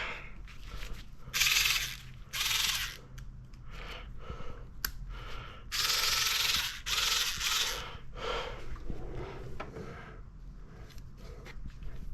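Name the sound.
1/4 inch drive ratchet working on an MK7 Golf R cam cover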